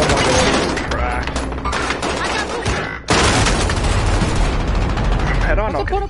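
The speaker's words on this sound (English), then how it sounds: "I'm getting shot from the roof, bro" Heavy automatic gunfire rattles in Call of Duty: Warzone while a player is shot at from a rooftop. The loud, sustained bursts are broken by one brief pause, and excited voices talk over the shooting.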